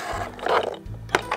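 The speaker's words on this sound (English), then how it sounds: "Now let's vacuum it up." A small toy vacuum cleaner runs its motor close by to suck up a Play-Doh mess, giving a steady buzzing whir with a low hum, brief surges and a couple of short clicks, and no one talking.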